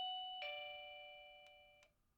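An OHMKAT wireless doorbell chime rings out a short melody of clear bell-like tones, several distinct strikes each ringing and slowly decaying, fairly quiet in an otherwise silent room.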